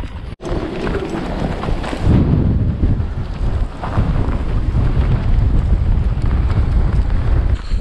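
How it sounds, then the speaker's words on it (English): Strong wind roars and buffets the microphone continuously, a loud rushing blast that swells and gusts without letup, no voices heard. "today is as windy AF"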